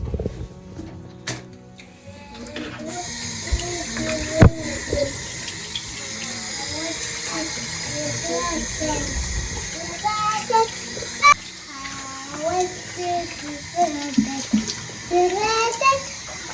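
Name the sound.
tap water running while rinsing a brush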